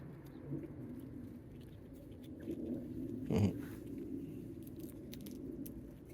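Birds coo softly while being fed GRUBTERRA, low and faint against a quiet background, with one louder close rustle or peck partway through.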